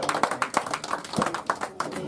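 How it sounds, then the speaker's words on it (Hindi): Audience applause at a Hindi poetry gathering (kavi sammelan): scattered, uneven hand claps tapping out irregularly for about two seconds, moderately close and fairly light, with no talk over it. "इस बात में ताली बजा सकते हैं।"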